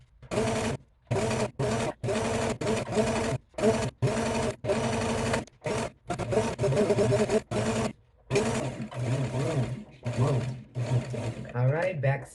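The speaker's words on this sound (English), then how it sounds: "Make sure you back stitch to lock those stitches in." Sewing machine back stitching ribbon for tutu anklets, bursts of rapid mechanical whirring in short runs separated by brief stops, close and fairly loud.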